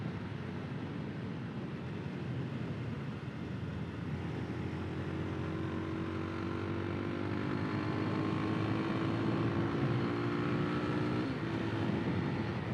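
A 2022 Kawasaki KLX 300SM motorcycle's 300 engine drones steadily while riding, with rising tonal whine as it climbs through tall gears amid continuous road and wind rush.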